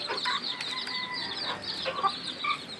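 Chickens cluck softly and intermittently at a distance on a farm, with light rustling and faint bird calls in the background.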